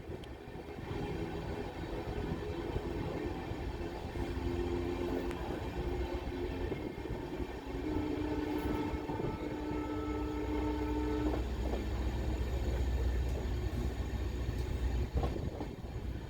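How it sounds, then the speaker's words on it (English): An Indian passenger train, the 11097 Pune–Ernakulam, rumbles steadily past at close range departing towards Castle Rock on a non-electrified section, wheels and engine droning continuously, with faint horn-like tones rising briefly. "after a halt of 7 minutes, the train departed towards Castle Rock"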